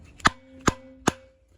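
Three sharp, evenly spaced knocks as a knife is batoned into a 4x4 wood block to split firewood, each strike crisp and close with a short ringing tail.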